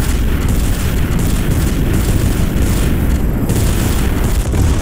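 Weapons fire relentlessly at the Celestial in a Guardians of the Galaxy Telltale boss fight, producing a dense, loud wall of booming blasts and rumbling explosions that barely lets up.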